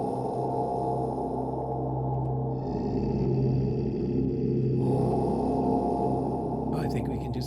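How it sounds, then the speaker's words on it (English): A dark cinematic synth pad preset called The Hunt from the Dark Era library plays on its own, a dense, steady rhythmic drone with a shimmering texture that shifts and swells over several seconds. "This time we'll go with a rhythmic pad."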